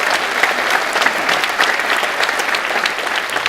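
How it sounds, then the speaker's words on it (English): An audience at the Semi Permanent design talk in Auckland breaks into applause, dense and sustained clapping from a large crowd filling the room for a few seconds with no voices over it. "Let's give her a round of applause"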